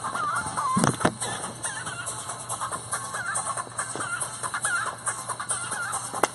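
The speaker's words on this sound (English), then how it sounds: "That chicken music is kind of infectious." Playful chicken-sound music with clucking, squawking tones plays at a live broadcast from a charity golf outing, bouncing along in quick repeated phrases over a steady backing, close and clear without talking.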